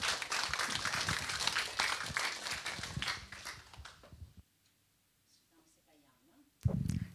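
A church congregation claps to welcome the pastor, loud continuous applause mixed with voices for about four seconds, then near silence before a short burst of sound at the end.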